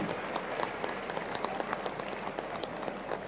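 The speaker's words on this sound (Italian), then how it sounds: "E un applauso perciò alla città" A crowd at a civic religious celebration applauds, a steady moderately distant wash of many clapping hands with a few sharper individual claps standing out.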